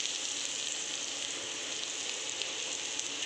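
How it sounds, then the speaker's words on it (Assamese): Eggs and potatoes fry in hot oil in a pan, giving a steady, dense sizzling hiss that holds evenly throughout without pause. "কণী আৰু আলুখিনি ভাজি ল'ম তেল দি পেলাই তেলত অলপ সময় ভাজি ল'ম"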